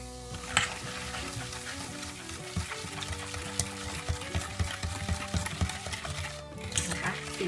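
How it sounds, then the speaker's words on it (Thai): Soda water is poured slowly into a sugar mixture for a Thai salad dressing, giving a continuous close fizzing and crackling hiss with scattered clicks and light utensil sounds. "ใส่โซดาลงไปด้วยนะคะ ค่อยๆใส่นะคะ"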